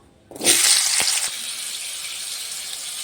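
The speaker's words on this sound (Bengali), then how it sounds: "আলুটি আগে নুন হলুদ দিয়ে একটু ভাজা নিই" Potatoes with salt and turmeric hit hot oil in a wok and start a loud, steady sizzling hiss that keeps going without a break.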